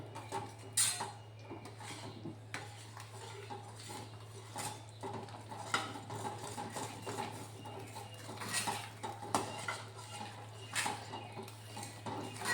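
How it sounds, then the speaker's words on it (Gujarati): A sweet mixture is stirred in a pan over a low flame for gond paak, with irregular scraping and clinks of a spoon against the pan over a steady low hum. The sound is moderately near with no talking. "હલાવીશું આપણે બરાબર, એટલે એમાં ગાંઠા ન પડે."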